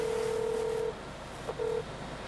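Telephone dialing tones sound close and clear: one long steady beep, then after a short pause a quick blip and a second shorter beep, over a faint room hiss.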